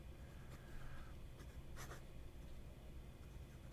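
A fountain pen with a soft nib, a fake MB 149, scratching across paper in short strokes, faint and close up, with no talk.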